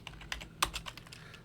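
Typing on a computer keyboard while entering code in OpenSCAD, a quick run of crisp, close key clicks in an uneven rhythm with one sharper keystroke in the middle.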